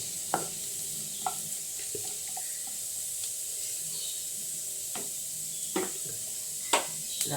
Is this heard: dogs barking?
no